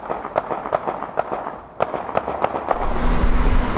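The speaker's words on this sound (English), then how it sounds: "Sensitive microphones strategically positioned above city streetlights recorded those gunshots." A rapid series of sharp cracks, about a dozen gunshots in quick succession on a Baltimore city street, followed by a rush of noise.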